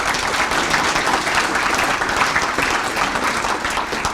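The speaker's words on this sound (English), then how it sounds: "I'd like to give them all a round of applause for their investment in the chamber" A crowd at a chamber of commerce awards celebration applauds with dense, sustained clapping, loud and even throughout with no pause.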